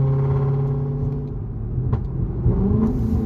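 A car on Hoosier tires accelerating hard in a pull, its engine droning steadily and loudly with rising harmonics and rumble, close up and continuous, with no talk.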